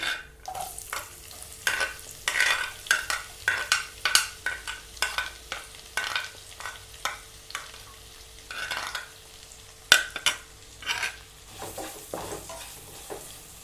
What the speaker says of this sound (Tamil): ஒரு பெரிய வெங்காயம் சின்ன சின்னதாக கட் பண்ணி வச்சுருக்கேன், அதையும் சேர்க்குறேன்